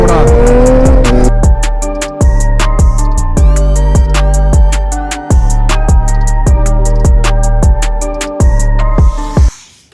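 A Suzuki Hayabusa motorcycle revs hard through a wheelie, loud and close, its engine rising and cutting in a rapid series of sharp throttle blips and gear changes, with brief wind rush at the end.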